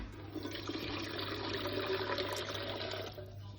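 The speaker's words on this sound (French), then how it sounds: "On va mettre au fond de la cuve, du coup, de l'eau bouillante." Boiling water pours steadily into the bottom of the pot of a Cookeo multicooker, a continuous close splashing gush lasting a few seconds before it tapers off.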